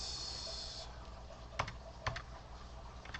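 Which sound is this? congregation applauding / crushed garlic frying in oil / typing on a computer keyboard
typing on a computer keyboard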